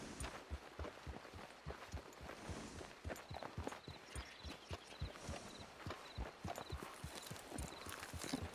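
Steady clip-clop of horse hooves trotting in the video game Red Dead Redemption 2 on Xbox One, a continuous rhythmic clatter at moderate volume over a faint background ambience.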